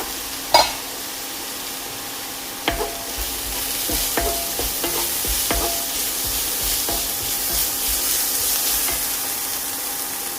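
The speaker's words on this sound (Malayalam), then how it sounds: "ബീറ്റ്റൂട്ട് ഇതിൻ്റെ കൂടെ കിടന്ന് ഒന്ന് മൊരിഞ്ഞ് വരണം." Beetroot thoran frying in a pan with sharp stirring scrapes and clinks, a continuous sizzle holding steady underneath, close and fairly loud, with no voices.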